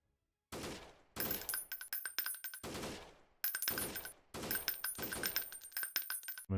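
Gunfire in the video game Freeman: Guerrilla Warfare, repeated bursts of automatic rifle fire with crisp rapid shots, some bursts ringing out alone and others rattling in quick sequence.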